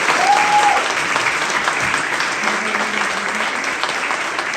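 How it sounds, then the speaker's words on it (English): Sustained audience applause fills a mayoral forum hall at its close, a dense steady wash of clapping hands with no talk over it, loud and even throughout. "So let's have a round of applause for all four."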